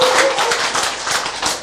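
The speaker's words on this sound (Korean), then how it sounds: "박수를 많이 칠수록" Audience clapping during a lecture on diabetes, a brief, fairly loud patter of hands from a small crowd.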